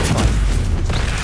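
A Stupefy spell strikes its target in Hogwarts Legacy, a short, heavy booming impact with a dense low rumble and a brief crackling burst, loud and close, with no talk over it.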